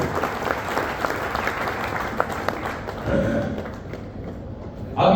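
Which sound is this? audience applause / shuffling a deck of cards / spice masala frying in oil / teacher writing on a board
audience applause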